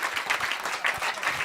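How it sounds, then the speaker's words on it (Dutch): An audience at a live talk event on football stories claps for the guests in steady, fairly loud applause that continues throughout, close and with no talking over it. "Allen nog even een applaus voor uw gasten"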